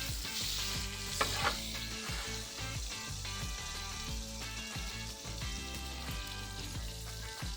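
Steaks sizzle inside an Ooni Koda pizza oven with a continuous, even frying hiss over a low droning hum, plus a couple of brief louder clicks near the start.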